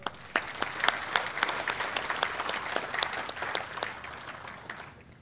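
Many people applaud at a ribbon cutting ceremony for a new industrial technology center, sustained crowd clapping with sharp individual claps standing out, holding steady before fading at the end.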